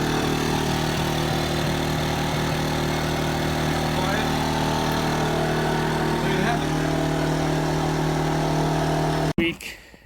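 A WEN 2350-watt portable inverter generator runs steadily at full throttle, a loud continuous engine drone with a constant hum that cuts off abruptly near the end.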